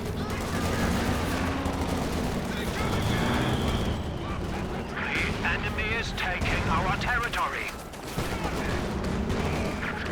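Thompson submachine gun fire in Company of Heroes 2, repeated rapid bursts crackling over battlefield rumble and explosions while a commentator talks continuously over the action.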